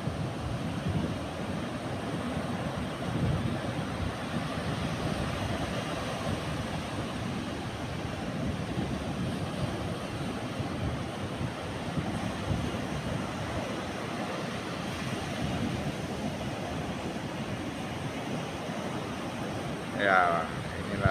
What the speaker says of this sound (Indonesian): awas, awas, ombak, ombak, ombak.